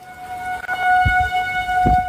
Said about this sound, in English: Sirens blaring as it tore through.